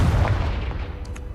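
A Confringo blasting spell bursts in Hogwarts Legacy, a loud, dense boom that opens the clip and rolls into a rumbling, fading blast tail with a few crackling bits near the end.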